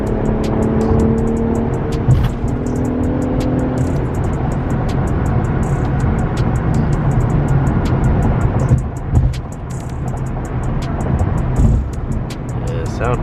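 An Infiniti Q50 with a muffler delete accelerates hard at night, its loud, raw exhaust droning steadily from inside the cabin, with a brief dip and surge near the end.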